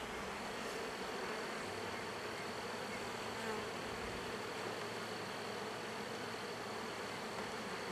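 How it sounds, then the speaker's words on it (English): Honey bees buzzing around open beehive frames during comb-drawing work, a continuous dense hum close by, steady and moderately quiet throughout. "Out of the way, bee."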